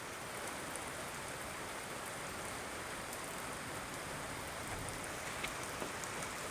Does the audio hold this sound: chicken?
no